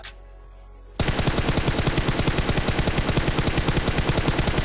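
Rapid automatic gunfire from a PUBG match, a steady burst of loud, evenly spaced shots running without pause after a brief quiet start, with no talk over it.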